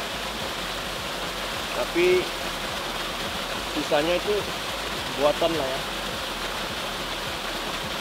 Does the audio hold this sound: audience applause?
no